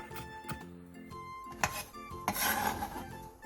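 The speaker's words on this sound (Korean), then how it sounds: "당근 2분의 1개를 얇게 채 썰고 부추 반줌을 3cm 정도 길이로 잘라주세요" A kitchen knife julienning carrot and chopping chives on a board, a few sharp chops and scraping rasps standing out over soft background music.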